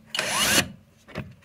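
Brief whirring burst from a Xiaomi electric drill as it unscrews a fastener, a rising motor whine with rattle lasting about half a second, then a short second buzz.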